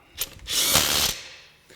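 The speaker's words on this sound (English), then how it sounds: "here's your auto tightening mode. It's gonna impact slightly, then stop." A RIDGID 18V SubCompact 1/2-inch impact wrench in auto tightening mode gives a short rattling impact burst of about half a second, then stops and fades out.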